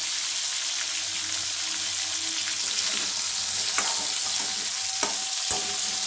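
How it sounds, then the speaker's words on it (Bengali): Potatoes fry in a pan with tempered spices for a Bengali potato and onion-stalk dish. A steady, close sizzle continues throughout, with a few sharp clinks of stirring near the end. "আলুটা আমার ভাজা হয়ে এসছে"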